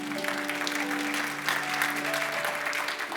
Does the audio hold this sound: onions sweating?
no